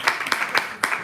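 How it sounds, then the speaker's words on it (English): Clapping at a Toastmasters club meeting, the audience applauding themselves with several distinct, fairly close bursts of claps in an uneven rhythm. "A round of applause for yourselves."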